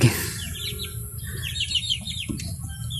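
Chickens in a gamefowl yard give a run of short, chirpy clucks and calls at moderate distance over steady outdoor background noise, with no talking.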